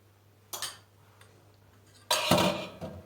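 Batter spread around a frying pan gives a soft scraping tap, then a louder rasping, clattering scrape of utensil against the pan, close and brief, with quiet gaps between.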